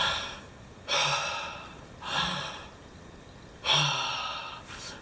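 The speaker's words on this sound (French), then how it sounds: "Des fois, je demande à des gens de respirer devant moi et alors ils me font ça." Three short, shallow breaths drawn high in the chest, each a quick airy rush followed by a softer exhale, evenly spaced and close by with no talking.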